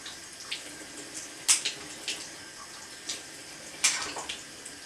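Makeup brushes are rinsed under a running faucet, giving a soft steady water hiss broken by several brief, sharper splashes and squelches as the bristles are squeezed.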